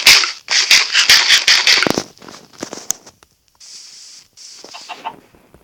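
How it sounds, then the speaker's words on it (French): Chickens cluck in rapid, loud bursts in the video game Dragonkoust, followed by quieter scattered clucks and a pair of sustained squawks before fading. "Des poulets."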